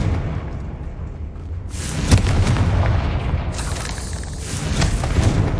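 Confringo blasting spells erupt in Hogwarts Legacy, with a low rumbling bed punctuated by a sharp blast around the two-second mark followed by a second surge of crackling, booming explosion noise, loud and continuous with no speech.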